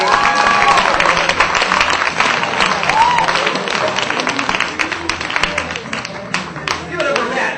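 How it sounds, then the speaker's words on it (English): An audience at a comedy show claps for comedian Bob Rocky, a busy crackle of hands that stays fairly loud and gradually thins, with someone talking over it. "I want to give a warm round of applause for Bob Rocky, ladies and gentlemen."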